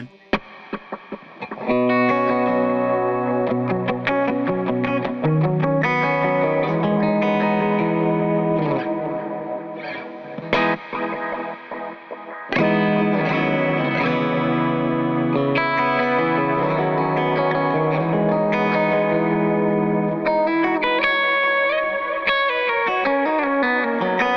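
Electric guitar played through Teddytones Cleanwater V2 captures with delay and reverb, sustained chords and note runs ringing out with echoing repeats and a washy tail, loud and continuous with a brief dip midway.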